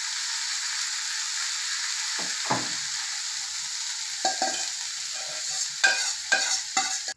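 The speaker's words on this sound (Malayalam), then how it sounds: "പരിപ്പ് ചേർത്ത് ഇളക്കുക" Mung beans stirred in a hot pan with mustard seeds and red chilli, a steady sizzle throughout with scraping spoon strokes and clacks against the pan near the end, no voices.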